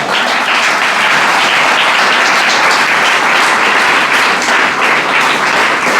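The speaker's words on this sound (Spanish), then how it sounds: "Dale un aplauso al Señor" Loud, close applause from a congregation clapping for the Lord, a thick steady wash of hands that holds evenly from start to finish.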